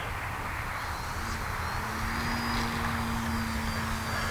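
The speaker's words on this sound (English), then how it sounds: "let's get her out here in the grass and do grass hops." A Tower Hobbies DHC-3 Beaver RC model plane flies low over grass doing short hops, its engine a steady droning buzz with a rising tone, heard at moderate distance over wind noise.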